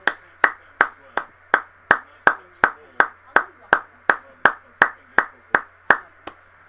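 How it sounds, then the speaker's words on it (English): Steady, evenly spaced single handclaps, loud and close, about three per second, during a minute's applause at a League Two play-off final between Morecambe and Newport County. "So we got a minute's applause, ladies and gentlemen."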